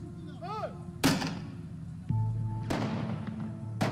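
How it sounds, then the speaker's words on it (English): Fireworks go off in heavy booming blasts, several sharp bangs spread over a few seconds, each with a rolling tail. A brief rising whistle comes before the first bang. "And them just fireworks, man."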